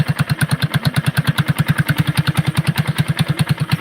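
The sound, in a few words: motorcycle engine idling, idle raised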